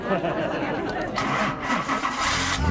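A Jaguar E-Type sports car engine cranks and catches, settling into a throaty running rumble that stays close and loud.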